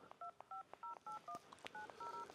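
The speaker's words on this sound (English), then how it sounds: "Yes, I'm calling Connor." Telephone keypad dialing tones, about ten short evenly spaced beeps in quick succession, faint and clean against a quiet background with no talking.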